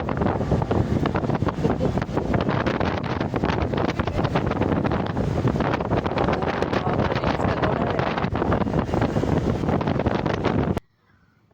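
Strong wind roars and buffets the microphone continuously for about eleven seconds, then cuts off abruptly to near quiet.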